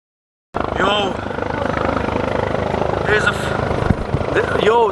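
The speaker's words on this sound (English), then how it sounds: "there's a freaking helicopter coming" A helicopter passes over a night camping spot at Tai Long Wan beach, its loud steady rotor thrum filling the clip after a sudden start, with pitch sweeps as it moves overhead and excited voices shouting beneath.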